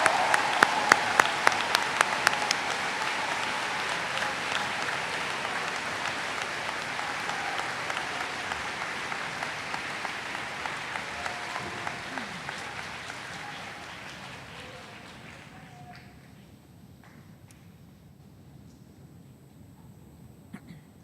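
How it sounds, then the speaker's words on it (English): A large crowd applauds honors graduates at a Montgomery High School commencement for the class of 2025. The sustained, dense clapping fills a big hall, then slowly thins and fades away near the end. "Let's please applaud those graduating with honors from the class of 2025."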